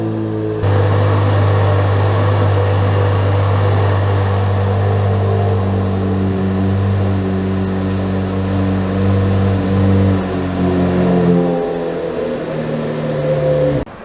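A 2023 Chevrolet Corvette Z06 convertible starting up and settling into a loud, deep idle, a steady close engine drone with rich low harmonics lasting over ten seconds before the pitch shifts near the end.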